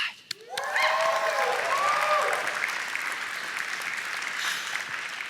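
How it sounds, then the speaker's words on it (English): Audience applause at a tech conference session on Microsoft Power Platform, full room clapping that swells after a brief whooping cheer and holds steadily for several seconds. "This is where you applaud"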